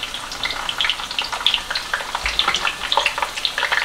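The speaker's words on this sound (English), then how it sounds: "while we got our french fries cooking up" Waffle fries sizzle in hot oil, a steady close crackle with dense popping bubbles throughout and no voices.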